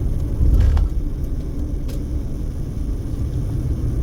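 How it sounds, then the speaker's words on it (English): A garbage truck rolls along East Charleston Blvd, heard as a low steady engine rumble amid road traffic, with a brief louder surge near the start and a continuous drone throughout. "And we've got a garbage truck."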